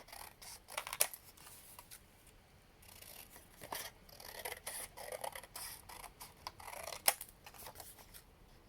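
Scissors snip down the side of a paper pad for a Stamperia craft journal, giving a series of quiet, close, crisp cuts in an uneven rhythm with no voices.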